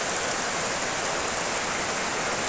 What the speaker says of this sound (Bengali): দেখো এবার বৃষ্টিটা কেমন মুষলধারে বৃষ্টি পড়ছে